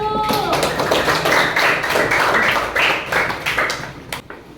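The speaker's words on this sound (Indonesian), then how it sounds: "kasih aplaus dulu untuk kelompok 1" A classroom of students claps for the first presenting group, giving brisk, close applause for about four seconds before it tapers off quickly.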